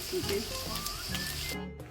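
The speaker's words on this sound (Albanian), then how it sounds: "I trazdojmë her pas here derisa të skuqen." Eggplant fries in a pan while being stirred, a close, quiet sizzle with faint scraping, continuing steadily for about two seconds.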